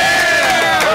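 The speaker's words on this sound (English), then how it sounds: "She's getting more applause than I've ever heard down here." A studio audience at a comedy show gives loud applause and cheering for a young lady, dense clapping with whoops that fill the short moment, close and sustained.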